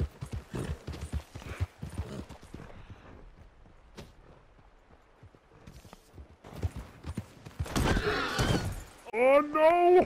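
Horse hooves clip-clop in the Red Dead Online video game, steady hoofbeats at first, then a crash and a horse whinny near the end, with a person talking over it.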